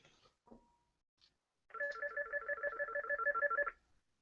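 A telephone rings in a close, clear burst of rapid trilling tones lasting about two seconds, after a few faint scattered noises.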